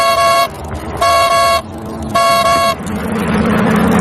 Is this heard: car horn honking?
yes